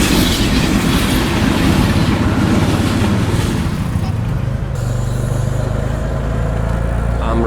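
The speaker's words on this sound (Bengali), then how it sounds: "ট্রেন পাস হচ্ছে।" A train crossing a railway bridge over a river, heard from a nearby road bridge: a loud, close, continuous rumble with rhythmic wheel clatter that eases slightly toward the end.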